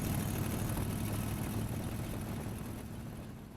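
An International Harvester Scout II truck engine runs at a steady low rumble, close and constant, fading slightly toward the end, with no talking.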